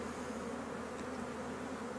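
Bees hum steadily around blossoming fruit trees in a flowering orchard, a continuous close buzzing drone with no voices.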